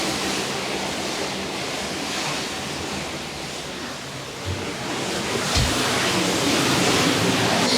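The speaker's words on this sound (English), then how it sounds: "I'm just liking listening to the sound of the waves crashing." Ocean waves crash and surge below a cruise ship at sea. The roar is broad and continuous and swells slightly louder toward the end, with some wind buffeting and no talking.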